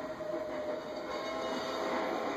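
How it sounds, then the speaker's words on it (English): A train rumbles past in the racing game Need for Speed: The Run, a steady, close roar of rolling wheels and carriages lasting a couple of seconds with no talk. "Please mind the train, mind the train."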